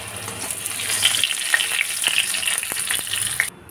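Cut potatoes fry in hot oil with a loud, steady, close sizzle and a few stirring clicks before the sound cuts off abruptly near the end.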